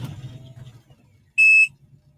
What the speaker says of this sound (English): You're going to hear a loud beeping when I put it into gear